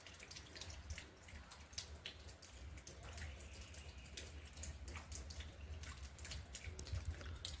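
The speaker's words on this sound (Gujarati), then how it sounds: "જો આ પાણીનો અવાજ સંભળાતો છે" Water drips steadily from a tap in a quiet outdoor setting, a series of small, fairly faint plinks repeating in an irregular rhythm over a low constant rumble.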